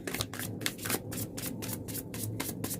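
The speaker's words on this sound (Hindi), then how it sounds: "I'll be pulling out 4 cards for each week and 1 or 2 cards for the overall" Tarot cards being shuffled by hand, a run of quick papery riffles and rubs repeating steadily at close range with no voice over them.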